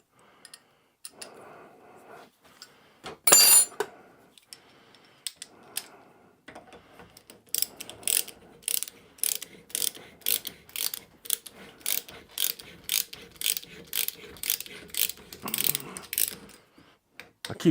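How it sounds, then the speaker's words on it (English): A hand reamer working through the camshaft linkage of a Sentinel steam waggon gives off repeated dry ratcheting clicks in a steady rhythm, close up, with a few sharper metallic knocks early on and no talking. "I keep saying you never turn a reamer backwards, always forwards."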